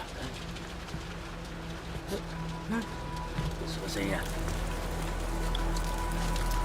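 Rain falls at sea over a boat, a soft hissing wash that thickens into a denser, steady downpour while people talk nearby.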